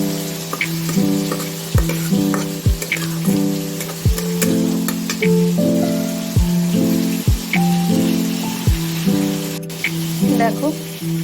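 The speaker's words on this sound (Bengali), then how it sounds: "যতক্ষণ ওপরে তেল না বেরোচ্ছে আমি কষাবো। দেখো মশলা থেকে তেল ছাড়তে শুরু করেছে" Spice paste for banana flower dhoka fries in oil with a loud, close, crackling sizzle. Repeated sharp scraping strokes of stirring come at a regular rhythm.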